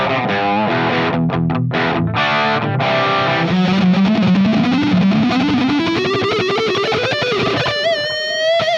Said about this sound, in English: using this little pedal right here, the MXR Classic Distortion